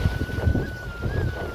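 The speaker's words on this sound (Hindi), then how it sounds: "बहुत खतरनाक हवा हो रही भाई है" Strong wind during a storm in the hills gusts and rumbles against the microphone in a heavy, continuous roar with uneven swells, loud and close.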